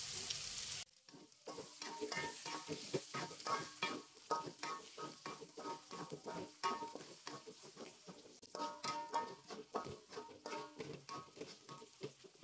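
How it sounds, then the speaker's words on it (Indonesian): Spice paste with lemongrass, galangal and bay leaves sautéing in a pan, a steady close sizzle with repeated scraping stirs, no talking. "Tumis bumbunya sampai matang dan harum. Masukkan serai, lengkuas,"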